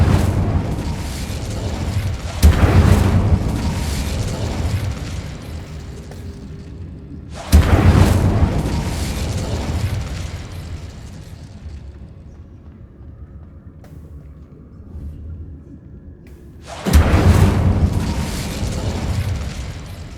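Three heavy whooshing bursts of flame from an Incendio fire spell cast with a wand, each igniting sharply and roaring loudly before fading into a low burning rumble, spaced several seconds apart with no talking.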